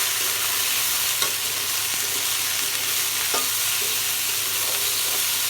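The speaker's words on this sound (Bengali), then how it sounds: "আলুটা ভেজে নেব।" Potatoes fry in hot oil in a wok, giving a steady, close sizzle with faint scrapes of stirring and no voices.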